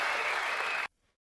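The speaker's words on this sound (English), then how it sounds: "let's applaud that" A crowd claps in a dense burst of applause that cuts off abruptly after under a second, leaving near silence.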